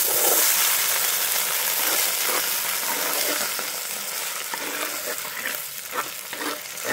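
Beans fry loudly in a clay cazuela, a dense steady crackling sizzle with occasional stirring scrapes, close and continuous throughout, easing slightly toward the end.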